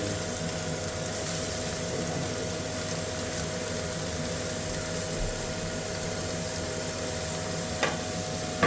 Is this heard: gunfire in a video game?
no